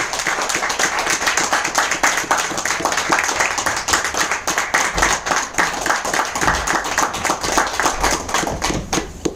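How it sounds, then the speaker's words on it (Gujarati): An audience at a stage event claps steadily to welcome people up, dense applause of many hands going on without a break throughout, with no speech over it. "પ્લીઝ તાળીઓની સાથે અમને આપણે આમંત્રિત કરીએ"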